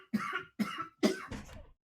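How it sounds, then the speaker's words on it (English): Three sharp, close coughs followed by a rougher throat-clearing cough, each a short separate burst, fairly quiet and with no talking around them. "Coughing."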